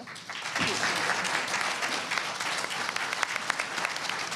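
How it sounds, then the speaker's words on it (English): Sustained audience applause for a panel at an education summit, steady and dense from start to finish, with no voices over it. "Stand up to receive your applause, panel."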